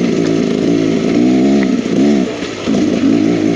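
A 2023 Beta X Trainer 300 street-legal dirt bike climbs a big hill in a riverbed, its engine roaring loud and close with a steady buzzing drone and a brief dip in revs partway through.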